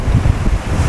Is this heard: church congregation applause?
no